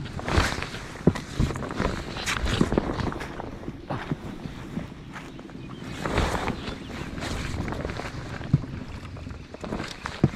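Scraping, knocking and rustling as a small fishing boat is dragged ashore on the Loire in spring flood, with gusts of wind and water sounds outdoors, steady and close.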